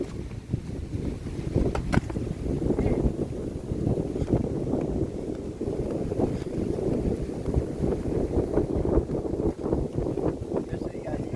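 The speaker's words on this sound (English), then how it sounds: "We got wind and stuff." Strong, steady wind gusts buffet the microphone at a Florida beach at E.G. Simmons Park, a loud continuous rumbling roar that fills the whole stretch with no pauses.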